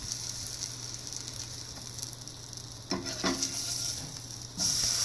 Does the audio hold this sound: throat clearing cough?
no